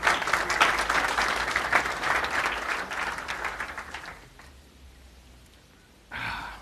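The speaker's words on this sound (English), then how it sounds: "So round of applause for those people, too." A conference audience at a Ruby programming talk applauds, a crisp burst of many hands that fades over several seconds into near quiet before a short louder noise at the end.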